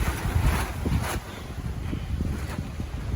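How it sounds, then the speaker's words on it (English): Strong wind roaring and buffeting a microphone in uneven gusts at a campsite on Booth Lake in Algonquin Park in early September, with low rumbling surges and no voices. "the wind is resilient. We'll not let up."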